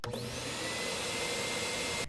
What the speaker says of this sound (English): he makes loud vacuum noises